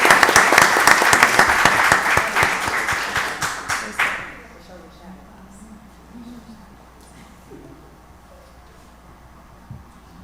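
A crowd at a Rockdale County Board of Commissioners meeting applauds loudly for about four seconds, then the clapping dies away into a quiet room with faint scattered shuffles.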